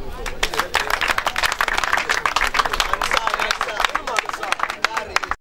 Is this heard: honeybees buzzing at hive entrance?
no